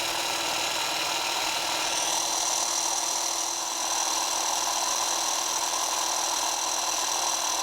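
Milwaukee M12 Fuel cordless hedge trimmer running unloaded on a 12-volt battery, a steady high-pitched motor whine with a buzzing blade drone, close and continuous with no talking.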